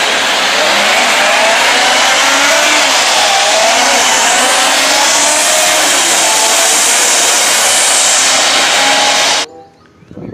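A MotoGP racing motorcycle engine revs loudly and close, a sustained high buzzing roar that holds for about nine seconds before cutting off abruptly.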